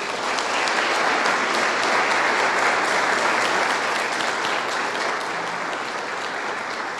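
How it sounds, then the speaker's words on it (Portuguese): An audience applauds a guest invited onto the stage, a thick, continuous roar of clapping that stays steady and loud for seven seconds with no break. "Uma salva de palmas para o Rodrigo."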